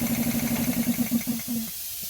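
Electric motor running with a steady pulsing hum and hiss, then cut off by remote control, the drone fading out near the end to a quiet background.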